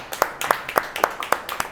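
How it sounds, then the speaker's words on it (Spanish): A church congregation claps in a steady, rhythmic beat. About six or seven sharp claps come at even intervals, moderately close, like hands clapping in time. "¿cuánto le dan un aplauso al Cordero?"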